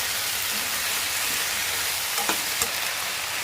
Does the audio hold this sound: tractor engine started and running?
no